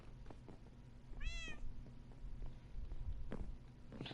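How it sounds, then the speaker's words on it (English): A Minecraft cat on PS4 (Bedrock edition) gives a single clear rising meow against quiet game ambience and soft footstep taps. "And I heard a cat"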